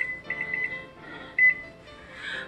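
A kitchen timer gives short electronic beeps in quick clusters as it is set for cooking, close and clear with brief pauses between bursts.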